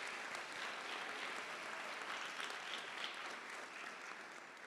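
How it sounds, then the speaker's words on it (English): A crowd applauds at a medical school commencement ceremony, a steady, even roll of many hands clapping, moderately distant and sustained throughout without talk. "let's give them a big applause"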